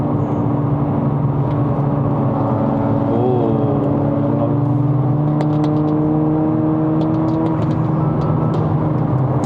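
A tuned 2025 Honda Civic FE RS turbo engine with an aftermarket exhaust revs up and holds a loud, steady drone, pitch rising in a couple of swells; close and continuous, with no talking.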